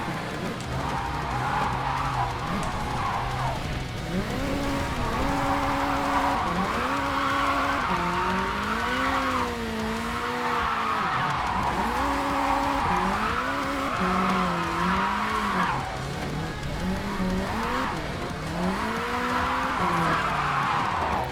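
Game car engine roars continuously as it races and drifts around a track, rising and falling revs with loud sustained tire squeal through the turns, steady and close throughout.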